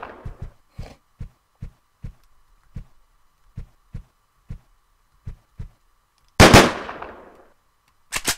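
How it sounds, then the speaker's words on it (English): Gunfire in the video game Deadbolt: a steady string of sharp, single reports spaced about half a second apart, each crisp and punchy, broken near the end by a louder, longer roaring burst and then two more close shots. "Oh, it's a machine gun down there."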